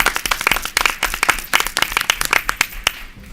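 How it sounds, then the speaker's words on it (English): Applause at a public school board of education meeting, a small group clapping close by with sharp, distinct hand claps in an uneven rhythm that thins out and stops near the end. "That's a reason to applaud."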